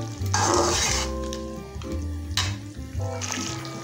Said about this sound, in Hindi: ये मैंने दही में सारी चीज़ें मिक्स कर दी थी, थोड़ा सा दही नहीं है, मैंने इसमें सारी चीज़ें मिक्स कर दी। इसको हिला लेंगे।